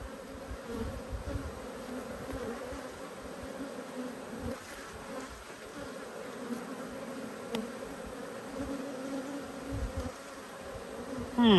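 Dense, steady buzzing of many honey bees at an open hive full of young bees, close and continuous throughout with no talking.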